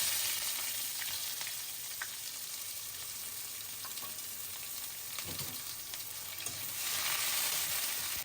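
Cumin and chopped onion hit hot oil for a fish and okra curry, producing a continuous, fairly quiet sizzle with faint stirring that swells louder toward the end.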